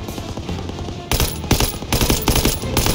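Machine gun covering fire in a Call of Duty World War II battle: a muffled rumble of distant shooting gives way after a second to loud, rapid, close bursts of automatic fire that keep pounding to the end.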